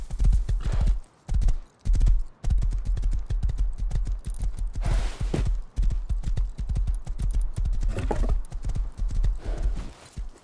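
Horse hooves clip-clopping in the video game Rust, a fast, steady stream of close, loud hoofbeats with short pauses and occasional whinnies mixed in.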